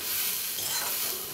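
Grated coconut fries and is stirred in a hot pan with coconut oil, giving a steady close sizzle with soft scraping from the stirring that runs throughout the short moment.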